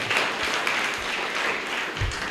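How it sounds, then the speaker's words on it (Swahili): Audience applause for Mt Kenya Synod leaders at a church social day, a steady wash of clapping from a crowd, sustained and fairly loud throughout with a few sharper claps standing out. "Si tuwapigie makofi ya social"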